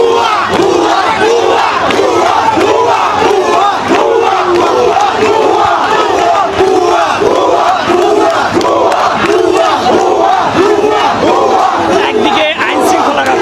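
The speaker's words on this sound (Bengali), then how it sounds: "আমরা এই মিছিল থেকে ভুয়া ভুয়া স্লোগান শুনতে পাচ্ছি" A dense protest crowd outside the city hall loudly chants the 'bhuya bhuya' slogan in a steady, repeating rhythm of massed voices that fills the whole stretch.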